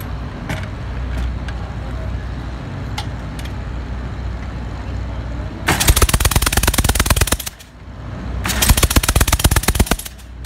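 A Nitro Harley drag racing motorcycle engine is revved in two violent, extremely loud bursts of rapid staccato cracking, like machine-gun fire, after a stretch of idling rumble and background noise.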